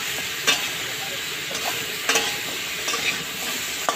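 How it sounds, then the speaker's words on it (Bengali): Chopped vegetables for a vegetarian Malabar spinach curry sauté in a pan, with a constant close sizzle broken by a few sharp scrapes and clacks from stirring, and no voices. "তো এবার আমি এখানে দিয়ে দিচ্ছি আমি সবজিগুলো কেটে রাখা সবজি। তো আমি ভালো করে এবার কষিয়ে নেব।"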